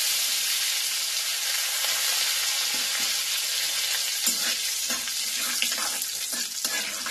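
Curry leaves dropped into hot oil while making three-in-one pakoda, giving a loud, bright, continuous sizzle with scattered sharp crackles and spits, close up and with no voices.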